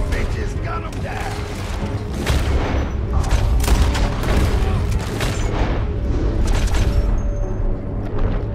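Gunfire erupts during a stagecoach robbery in the video game Red Dead Redemption 2, with loud booming shots and dense volleys over a continuous rumble of game sound, while voices shout through it.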